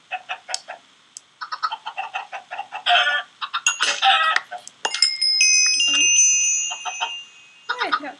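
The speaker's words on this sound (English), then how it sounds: "One more chicken, I guess." Minecraft chickens cluck in a series of short, clipped bursts with brief gaps, mixed with game bleeps and a sustained electronic tone, loud and close, as a player talks over the game.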